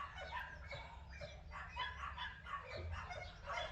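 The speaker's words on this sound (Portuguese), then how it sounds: "É só os cachorros dos vizinhos." Neighbours' dogs bark repeatedly at a distance, a steady run of overlapping barks and yips across the whole stretch, fairly faint and with no talk over them.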